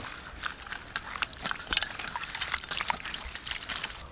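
Raw shrimp being rinsed clean in water, with close, irregular splashing and trickling that runs throughout, plus occasional light knocks and sloshes.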